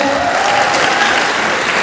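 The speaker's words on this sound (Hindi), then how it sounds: "एक बार जोरदार हाथ ताली बजाना चाहिए उमेश साहब के लिए" Applause from the audience at a smart value india FLDC gathering in Kolkata, a loud, dense, steady wash of clapping that fills the whole short stretch without a break.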